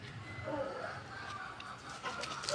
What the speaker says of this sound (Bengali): দেখছিস কি শুরু করে দিচ্ছে মুরগিটা